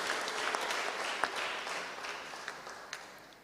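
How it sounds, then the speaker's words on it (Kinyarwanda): Congregation applause at a church sermon, a steady dense wash of clapping from a crowd lasting the whole stretch, fairly even in loudness with a few sharper individual claps standing out. "Round of applause to this word."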